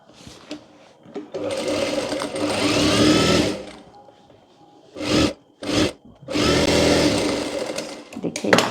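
Sewing machine stitching ladies' palazzo trouser pants, running in two long steady whirring bursts broken by short stops, close and fairly loud.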